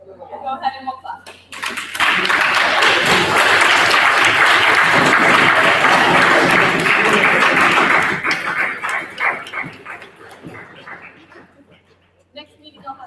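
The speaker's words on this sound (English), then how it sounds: "Go ahead and we'll clap." Attendees at a student government general business meeting burst into loud, dense clapping that holds strong for several seconds, then thins into scattered claps and dies away as the room quiets.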